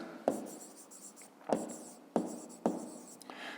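Pen writing numbers on paper during a math lesson: a few short scratchy strokes with sharp taps at irregular intervals, close and quiet, with no voices.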